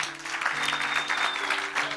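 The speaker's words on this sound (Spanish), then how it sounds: "dile un aplauso fuerte al Señor" A church congregation at a Spanish-language service claps loudly and continuously, a dense wash of many hands filling the room.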